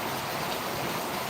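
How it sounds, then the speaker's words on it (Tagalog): Steady rain hisses evenly and continuously at moderate loudness, with no voices or other sounds. "Yes, it's raining po."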